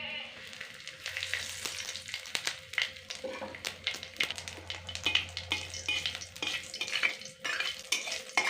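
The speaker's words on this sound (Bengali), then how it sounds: "এবার এই তেলের মধ্যে ফোড়ন হিসাবে দিয়ে দিচ্ছি তেজপাতা," Bay leaf, dried chili and cumin crackle and sizzle in hot mustard oil, a busy close spattering with frequent sharp pops and clicks throughout.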